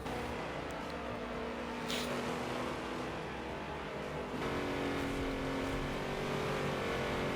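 Stock cars at Daytona in an Almost Strictly Stock race roar around the track, a sustained engine drone with shifting tones as the pack runs, moderately distant and steady.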